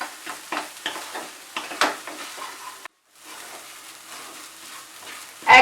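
Egg bhurji sizzles in a pan while a spatula stirs it in repeated scraping strokes. A brief silence follows, then a quieter steady sizzle, with a sharp scrape at the end, all close by and without talk.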